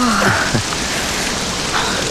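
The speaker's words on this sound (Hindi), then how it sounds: "बहुत तेज बारिश हो रही है।" Heavy rain pours down in a dense, steady hiss in a Hindi romantic film scene, with a voice speaking briefly near the start.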